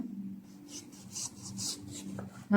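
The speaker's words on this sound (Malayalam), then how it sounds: "ഇതിനി നമുക്ക് കട്ട് ചെയ്ത് കൊടുക്കാം" A knife works through raw mango for an instant pickle, a series of soft, quick rasping cuts repeating in an irregular rhythm, close and quiet, with a low background hum.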